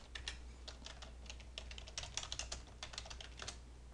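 Fingers tap rapidly on a computer keyboard, a quick irregular patter of close, faint keystrokes over a low steady hum, with no voices.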